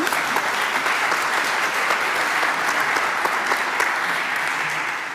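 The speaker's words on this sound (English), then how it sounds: "Let's show our appreciation for this team and the work they do with our applause." Audience applause at a community gathering, a dense and even clapping from a crowd that stays loud throughout and tails off slightly at the end.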